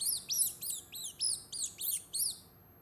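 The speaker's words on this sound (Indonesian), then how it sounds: "Itu seperti bunyi anak burung yang sedang berdecik." A baby bird chirping in a quick series of about eight high, thin sweeping notes evenly spaced, clear and close against a quiet background, alone without talk.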